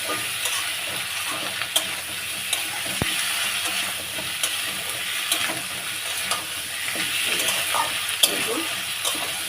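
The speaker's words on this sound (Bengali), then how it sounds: "পেঁয়াজ আদা রসুন দিয়ে ভালো করে পেঁয়াজটা ভালো করে ভেজে নিয়ে" Onion, ginger and garlic fry in hot oil, giving a steady close sizzle with occasional stirring scrapes and small clicks; no talking over it.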